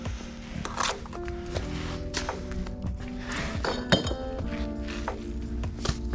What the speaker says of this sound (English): now we're going to lay brick on top of it